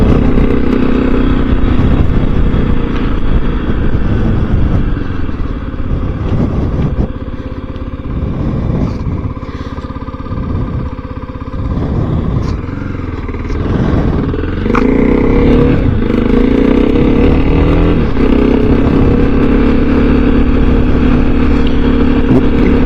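A Kawasaki KLX 300 dirt bike ridden on a mild winter day in central Wyoming, its engine droning loudly and steadily with rises and dips in revs as it is ridden, close and continuous throughout.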